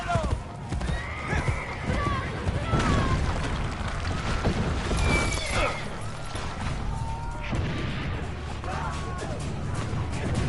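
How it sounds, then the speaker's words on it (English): A horse in Assassin's Creed Brotherhood neighs repeatedly over steady galloping hoofbeats, amid crashes and game effects, with voices talking throughout. "I'm barely controlling this horse."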